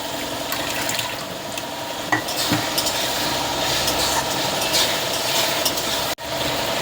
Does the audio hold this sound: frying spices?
yes